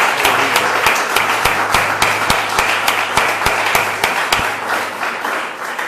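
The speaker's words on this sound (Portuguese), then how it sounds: "Você pode dar uma salva de palmas ao Senhor?" Church congregation applauding during a Sunday morning service at a Rio de Vida missionary church in Engenho Novo, a dense steady wash of many hands with sharp individual claps standing out, loud and sustained throughout, with no talking.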